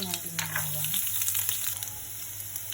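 Garlic, onion and vegetables sauté in a hot pan for a Filipino vegetable dish, a steady close sizzle running throughout with a few brief stirring scrapes near the start and no talking.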